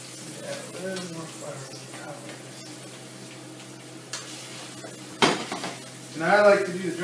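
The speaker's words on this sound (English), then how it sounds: "The rule with fried chicken, for those of you who don't know, is to get you a good scald, which is your initial hot oil fry." Chicken drumsticks fry in hot oil, crackling faintly beneath clinking pans and cutlery in a kitchen, with a sharp metallic clatter and a louder sizzle toward the end.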